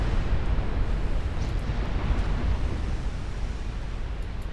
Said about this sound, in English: Getting some torpedo hits.